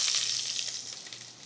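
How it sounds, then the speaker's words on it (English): Shallots drop into hot canola oil with a bright, hissing sizzle that is loudest at the start and gradually softens over a second and a half. "I'm gonna put the shallots in"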